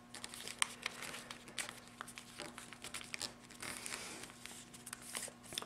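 Paper crinkles and rustles softly up close as it is folded into an SR-71 Blackbird model, with quiet, irregular crisp creasing sounds and small taps.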